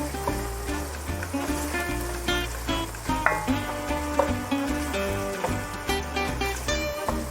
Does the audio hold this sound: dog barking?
no